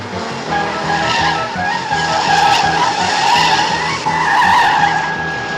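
A bus speeds along with its tyres skidding and squealing, a loud, continuous engine roar with screeching tones that rise and fall throughout, and no talk.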